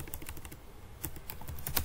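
Rapid keystrokes on a computer keyboard while writing unit test code, close and fairly quiet, with irregular clusters of clicks and a few sharper taps, no voice.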